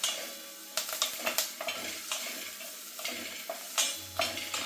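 Onions fry in a pan with a steady sizzle, broken by repeated sharp scrapes and clinks of a spatula stirring against the metal, close and clear.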